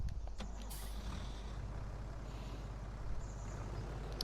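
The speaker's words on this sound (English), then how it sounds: "Tractor!" A farm tractor's diesel engine rumbles steadily at close range, with a low pulsing drone throughout and a brief hiss near the start.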